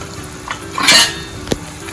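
Vaseti greens with spices, stirred in a pan: a soft sizzle runs under a swishing scrape, with one brighter spoon clink near the end.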